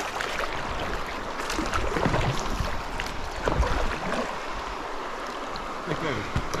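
Small boat paddled across water during a spring camping trip with friends, with continuous splashing and gurgling and soft, irregular paddle strokes close by, while people talk faintly in the background.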